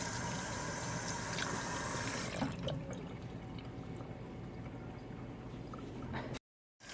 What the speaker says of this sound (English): I like to stir like some cold water in this, because sometimes even though you use oil, it sometimes can be very sticky still